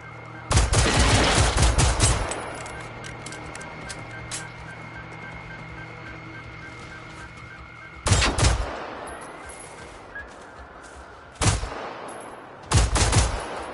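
Video game gunfire: a loud rattling automatic burst, then a long quieter stretch of steady hum, then more sharp bursts and a single shot near the end.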